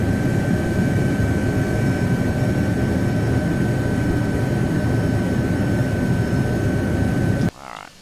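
An Iris Simulations PC-9/A turboprop drones steadily on approach to land in a flight simulator game, a loud constant engine hum with a high whine tone, cutting off abruptly near the end.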